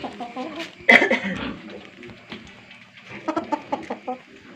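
Chickens cluck and squawk nearby in an Indonesian village setting, with irregular bursts of clucking and one sharper loud call, while people talk in the background.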